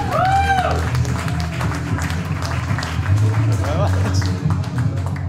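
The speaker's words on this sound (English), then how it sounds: "I want you to start clapping." An audience applauds and cheers with a dense, continuous wash of clapping and whoops, loud and close, with voices mixed in.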